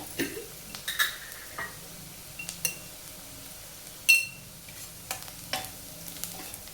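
Kurdai noodles are sautéed with onion, turmeric and masala in hot oil in a home kitchen, with sparse spatula scrapes and light clinks against the pan over a faint, low sizzle. The sounds are quiet and intermittent.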